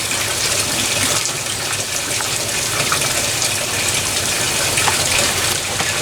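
Water gushes steadily and loudly onto a seed carpet laid in garden gutter dirt, soaking it in one continuous close pour with no break and no voices.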